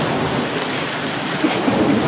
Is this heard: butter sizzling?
no